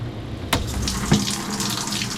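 Water running from a shower in a camper van, a steady close hiss of spray hitting a small enclosure, with a couple of brief knocks and splashes partway through.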